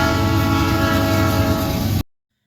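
A locomotive's P5 air horn blasts loud and close in one steady, harsh, sustained chord with a sour tone, cutting off abruptly after about two seconds.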